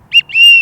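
A duck call whistle used for teal and widgeon gives two loud, close, high whistled notes, a short one followed by a longer sustained one, with nothing else heard.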